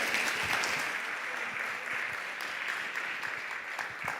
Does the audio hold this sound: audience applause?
yes